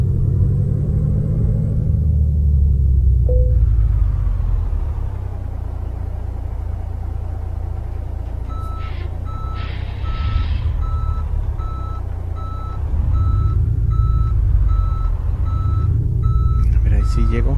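A truck in Euro Truck Simulator 2 rumbles with a steady low engine drone while repeated reversing beeps sound in regular pulses, and someone talks over it now and then.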